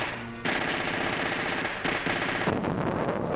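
Rifle and machine-gun fire in a war film about Dutch defenders, dense rapid bursts of shots rattling almost continuously, loud and close, with a brief break in the middle.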